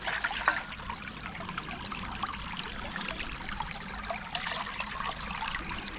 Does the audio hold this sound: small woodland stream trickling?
yes